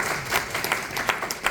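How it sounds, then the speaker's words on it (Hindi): Short burst of applause from a gathered audience at a motivational talk, several distinct clap peaks rising over a steady patter, fairly close and moderately loud. "एक जोरदार ताली आपका"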